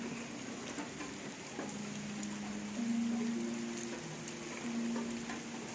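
Light rain patters steadily around a garden resort in a durian orchard in Chanthaburi, a soft continuous hiss with a faint low hum beneath, no voices.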